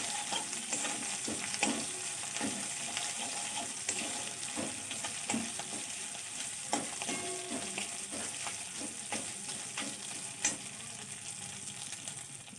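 Ginger paste fries in oil in a pan while being stirred, a soft continuous sizzle with frequent light scraping strokes at an uneven rhythm, close-up and without voices.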